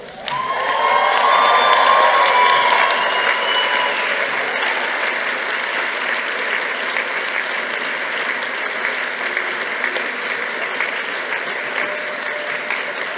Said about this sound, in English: So graduates, I'd like you to stand up this time to applaud and cheer and show your family just how much you appreciate them.